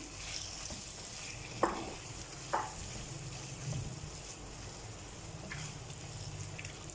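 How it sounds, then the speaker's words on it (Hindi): Beef liver frying in a pan with chopped green chillies, a steady soft sizzle with a few sharp clinks of a utensil stirring, moderately quiet and with no talk. "कलेजी ऐड करके अब हम इसे 4 से 5 मिनट अच्छा सा भून लेंगे।"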